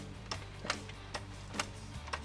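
A hydraulic jack being pumped under a Chevy El Camino during transmission removal, four or five evenly spaced clicks over a low steady hum, close and fairly quiet, no talking.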